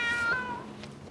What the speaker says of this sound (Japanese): この猫 知ってるのか、うどんのこと